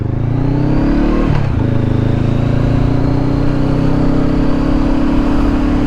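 Honda CBR500 motorbike (2020) ridden on country roads, engine holding a loud steady drone that dips briefly as if shifting gear, then settles again, with constant wind rush.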